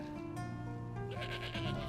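Goat bleating in the Skyrim video game, a wavering, nasal cry over a steady droning tonal background, moderately loud and without talk.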